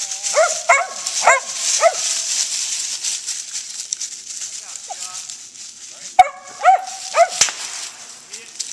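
Several dogs bark and yip in short bursts at a treed squirrel, pausing, then barking again, with faint background voices and ambient outdoor noise.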